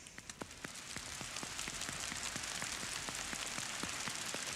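A convention audience at Warframe TennoCon slaps their hands together, making a dense, even patter like steady rainfall. Sparse separate hits at the start quickly swell into a continuous soft wash.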